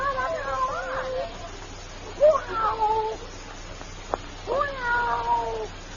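Cat meowing in an old 1946 radio drama: three drawn-out, wavering meows a second or two apart, close and clear against a faint hiss.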